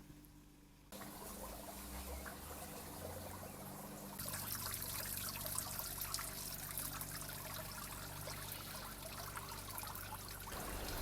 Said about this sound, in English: We'll dump the water into this drain.